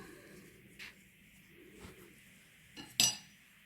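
A metal spoon gives one short, faint clink against a bowl or tin while a spoonful of condensed milk is added for a no-bake cake, after a few soft scrapes in a quiet kitchen.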